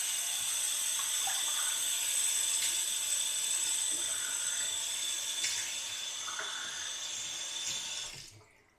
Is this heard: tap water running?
yes